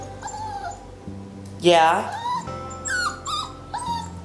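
A puppy whimpers and yips in rising, high-pitched cries at close range, with one louder whine in the middle, while a person speaks briefly nearby.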